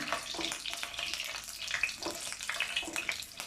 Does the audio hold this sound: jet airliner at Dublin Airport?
no